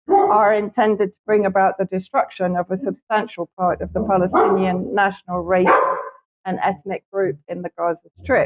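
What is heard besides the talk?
neighbor's dog barking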